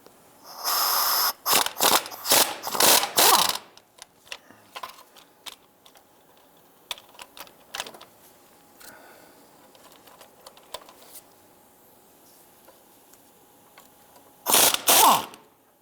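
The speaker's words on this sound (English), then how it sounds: "we have a 18mm socket with our ratchet to hold the bolt" A ratchet with an 18mm socket turns an oil pan bolt on a 2002-2008 Dodge Ram 1500, giving loud bursts of rapid clicking at the start and again at the end, with scattered faint ticks and clinks between.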